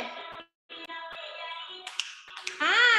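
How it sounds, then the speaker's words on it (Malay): Finger snaps crack sharply between stretches of a children's song sung by a bright voice, three or four quick dry clicks standing out over the tune. "Petik jari."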